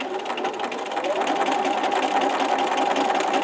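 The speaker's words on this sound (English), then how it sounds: "You're going to start sewing. You're going to back stitch on this one." A sewing machine stitches through layers of pocket fabric with a back stitch, running as a loud, steady, close mechanical whir without a break.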